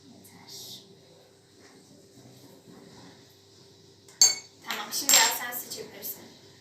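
Clinks of a small spoon against dishes while apple vinegar is added to a smoothie in a home kitchen game, a few bright metallic taps after a quiet stretch, near and moderately loud.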